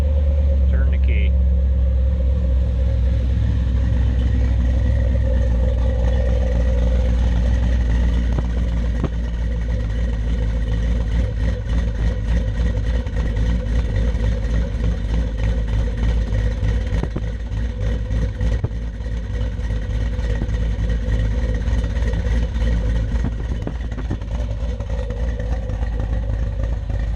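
A 1969 Corvette resto-mod with an LS3 V8 settles into a loud, deep, steady idle with a lumpy rumble and faint mechanical clatter, running continuously close to the microphone for nearly half a minute.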